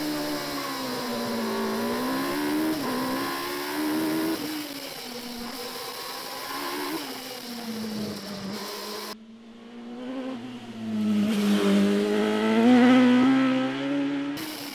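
A Westfield Clubman race car, number 33, on an event-winning hill climb run at Noosa, its engine revving hard and rising and falling through gear changes for the whole stretch, loud and close with no talk.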